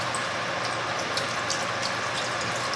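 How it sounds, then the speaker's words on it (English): Chicken stock poured from a container into an Instant Pot, a continuous close splashing trickle of liquid lasting a few seconds, with a faint mechanical clicking underneath. "Pour some of that over in here."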